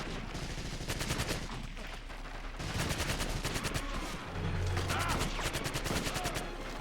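A PPSh submachine gun fires in a World War II Medal of Honor video game, with rapid automatic bursts in short repeated strings amid battle noise.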